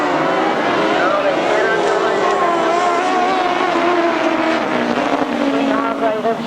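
Grasstrack motorcycles at the 1998 Collier Street meeting roar into the first corner, engines loud and rising and falling as the pack passes close, with a commentator talking over them.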